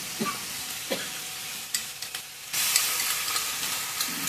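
Ginger garlic paste hits hot oil in a frying pan while making egg curry, a soft sizzle with stirring scrapes that jumps to a louder, steady hiss midway.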